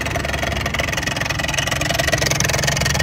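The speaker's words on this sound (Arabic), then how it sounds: "اسمع على صوت الدب" A faulty car engine with a knocking problem, running steadily with a rapid rhythmic knock through its rough idle, close and continuous.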